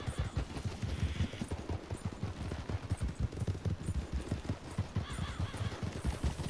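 Horse hooves clip-clop in steady, rapid rhythm in the Red Dead Redemption 2 video game, a fast gait on hard ground that sounds loud and close throughout, with no talking.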